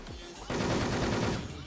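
Rapid automatic gunfire erupts in the online shooter game Wolfteam: a dense, loud burst of rattling shots begins half a second in and continues to the end.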